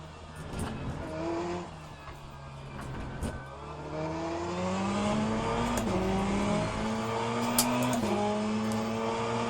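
A GTE race car engine in the Le Mans Ultimate sim racing game revs continuously, its pitch climbing through repeated gear-by-gear sweeps. The engine tone is steady, loud and close, with brief shifts and faint tire noise and no talk.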